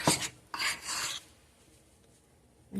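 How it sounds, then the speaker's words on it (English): A utensil scrapes lemon-lime cupcake batter around a mixing bowl in two short, rasping strokes close to the mic, then fades to near quiet. "I can always hear just scraping on that bowl in those videos."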